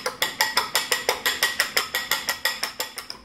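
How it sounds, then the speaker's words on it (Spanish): Eggs are whisked by hand in a bowl with a little olive oil: about fifteen quick, evenly spaced clicking strokes, close and steady, with no talking. "vamos a batir manualmente para que vean que sí se prepara rapidísimo"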